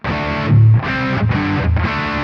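Heavily distorted electric guitar playing chords in separate bursts, a noise gate cutting each off cleanly into near silence between them, loud and close.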